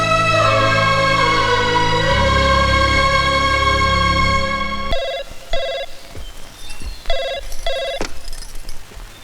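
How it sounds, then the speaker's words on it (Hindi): A telephone rings in a family home, a long continuous electronic trill at first that then breaks into short repeated double rings with pauses between them, loud and close. "पंडित जी का फोन है दिल्ली से।"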